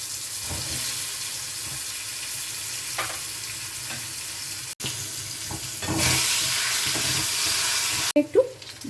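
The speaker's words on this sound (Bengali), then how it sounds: "এই তেল আছে তেলের মধ্যে আলুগুলো দিয়ে দিলাম" Sliced potatoes coated with turmeric and salt fry in oil, a loud, continuous close sizzle that swells midway, with occasional stirring scrapes and a clatter at the end.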